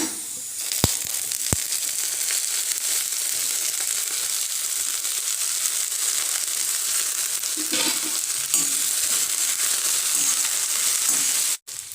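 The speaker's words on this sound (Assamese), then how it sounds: "এতিয়া সেই ঢেকীয়াখিনি এই পিঁয়াজখিনিৰ লগত ভাজি ল'ম।" Dhekia fern greens frying with onion in hot oil make a steady close sizzle and crackle, with a few clicks of a utensil against the pan and stirring scrapes, continuous for several seconds with no voices.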